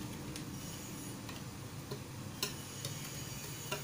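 Spoon stirring Milo powder into a drink, giving light repeated ticking clinks against the glass over a steady background hiss.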